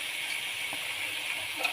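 Chayote goes into a hot cooking pot, giving a steady, quiet sizzle with faint ticks and a small clatter near the end.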